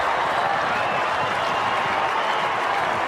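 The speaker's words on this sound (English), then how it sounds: "The roar of the home crowd tells you the story." A home crowd at an Australian football match between Gold Coast and Brisbane roars after a goal, a dense, loud, sustained wash of cheering and applause.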